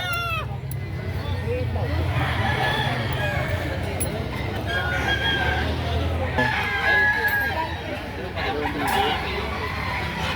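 Rooster crowing amid a busy Saturday chicken market in Lipa City, Batangas, with several long crows rising over a steady crowd murmur and nearby talking.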